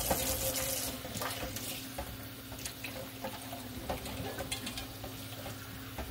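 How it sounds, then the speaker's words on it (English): Running tap water pours steadily into a sink while a wine fermentation airlock is rinsed under it, a constant close splashing hiss with small clatters throughout. "I'm going to rinse this off where stuff dribbled on it."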